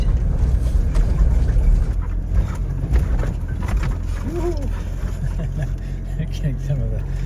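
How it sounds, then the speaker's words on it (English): A 4x4 vehicle driving on soft beach sand gives a continuous low engine rumble with wind buffeting and bumps, heard close up beneath people talking throughout. "And now we're literally driving on the beach as we continue on our journey to find our campsite."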